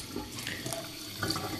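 Water poured into yogurt in a home kitchen to make lassi: a steady, close splashing pour that runs the full length without pause, with no talking.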